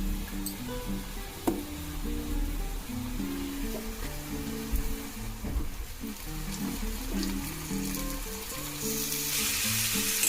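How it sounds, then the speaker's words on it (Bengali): Tomatoes stirred into browned onions frying in a pan for masala egg bhurji, a gentle sizzle under louder tuneful background music, with occasional scrape-like bursts as the pan is stirred. "টমেটোগুলো দিয়ে ভালো করে নেড়ে নিচ্ছি।"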